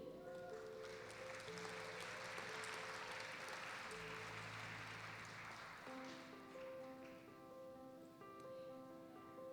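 Sustained audience applause for CARE Award winners at a nurses' salute ceremony, a steady wash of clapping heard under soft background music with sustained tones.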